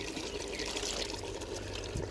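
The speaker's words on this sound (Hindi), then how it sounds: "थोड़ा सा इसमें हम पानी ऐड करेंगे" Water poured into a clay pot holding potatoes and fenugreek, a brief, steady splashing stream that runs without pause, with no voices.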